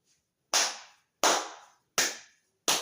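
Four sharp, evenly spaced hand claps ring out one at a time, each crisp and close with a short decaying tail and silence between.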